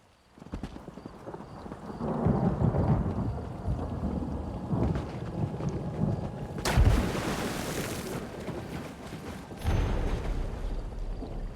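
Thunderstorm in the video game Elder Scrolls Online, with rumbling thunder and a sharp crack partway through, loud and layered over continuous game ambience and clopping sounds.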